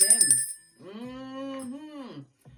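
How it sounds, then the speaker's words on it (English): A small bell rings once, bright and brief, at the very start, followed by a drawn-out voiced sound and a short trailing noise. "let's ring this bell"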